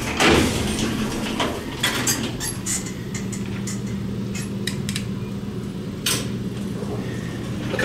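A Haughton traction elevator door at Barnes Jewish Hospital slides open at a floor stop, a steady mechanical rumble with faint clicks and brief clatters over low machine hum.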